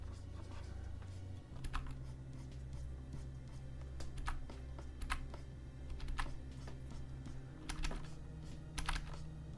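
Computer keyboard keys clicking in short irregular bursts while bracket keys are tapped to resize a brush during digital painting, close and fairly quiet over a steady low hum.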